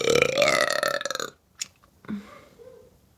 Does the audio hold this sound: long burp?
yes